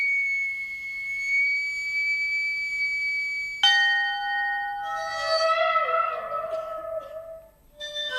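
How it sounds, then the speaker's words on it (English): A resonant ship's bell heard underwater strikes once, its rich ringing tones sustained and slowly wavering as they fade over a steady high drone. "And a ship's bell way underneath the ocean."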